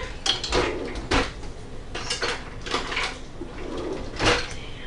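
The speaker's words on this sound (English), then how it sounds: "let me get my bowl and get a spoon" A bowl and a spoon are taken out in a home kitchen, with several clattering knocks of dishware and cutlery, a cupboard or drawer thumping, and brief rustling between the hits.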